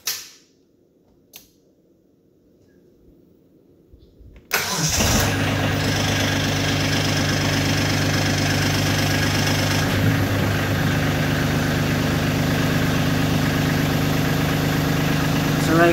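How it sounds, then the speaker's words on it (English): Kubota LX2610 compact tractor engine cranks briefly and fires up, then settles into a steady, loud diesel idle that runs on without a break. "let's go ahead and start this up for you"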